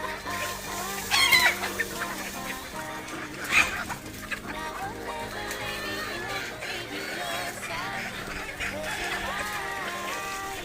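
Chickens, including a hen, cluck near and far in a backyard flock, with a couple of sharp louder calls early on over a steady low background.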